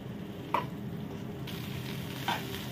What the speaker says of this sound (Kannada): ಹಾಗೆ ಚೆನ್ನಾಗಿ ಫ್ರೈ ಮಾಡುವ ಸ್ವಲ್ಪ